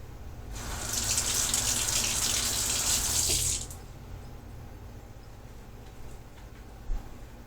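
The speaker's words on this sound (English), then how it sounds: "Gonna run it under the cold water." Cold water runs from a tap over a PVC sword blade, a steady broadband rush for about three seconds that then cuts off, leaving a quiet room tone with a faint knock near the end.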